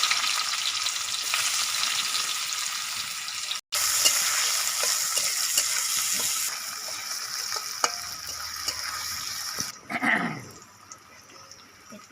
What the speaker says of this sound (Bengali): জিরে দিয়ে ফোড়ন দিয়ে দিলাম। পেঁয়াজ কুচিগুলো দিয়ে দিলাম।